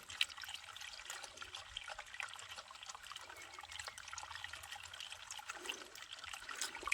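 Herbicide being mixed into water for spraying sugarcane: a thin stream poured while the liquid is stirred, giving a continuous close trickle and light sloshing.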